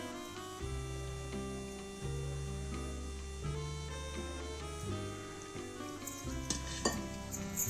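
Ground leftover chapatis are mixed with a little water in a bowl, giving close stirring and scraping with light clinks of a utensil against the vessel over steady background music.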